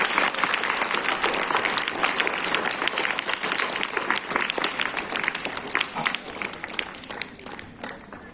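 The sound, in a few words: applause for children's presentation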